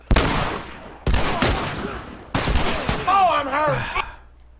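Bursts of gunfire from bandits in The Last of Us ring out in three loud, sharp volleys, close and echoing, with a voice shouting over the last burst.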